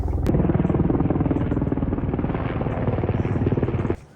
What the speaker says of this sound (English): there is a helicopter flying over, and it's very loud